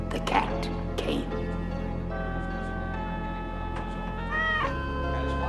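A cat meows in a 1990 horror anthology film, a few cries rising over a steady low hum and a musical score, with a sustained wavering tone near the end.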